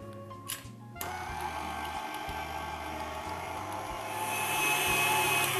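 An electric mixer whirs steadily at low volume while whisking powdered sugar into lemon frosting, starting after a brief quiet moment and rising slightly toward the end; no voices are present.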